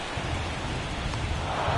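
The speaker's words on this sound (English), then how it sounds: "This rain is not letting up." Steady rain falls during a baseball video game, making a constant, even hiss with no breaks and no voices.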